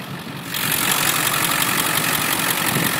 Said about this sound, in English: A lot of people like to see these motors run. Let's just pop the hood real quick so you can hear it go.